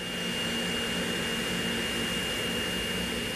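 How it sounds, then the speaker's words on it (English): A Boeing 777-200 jet arriving at O'Hare airport, a loud, steady roar with a constant high turbine whine, sustained without a break. "This Boeing 777 this afternoon arriving right on schedule"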